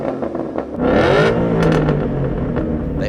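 A 2011-2014 Ford Mustang GT V8 with a Borla exhaust idles with a burble, then revs up into a loud, sustained growl that holds and settles, close by, with no talk.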